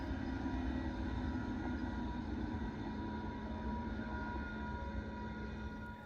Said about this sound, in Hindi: ये रही वो ट्रेन जिसके बारे में मैं आपसे बात कर रही थी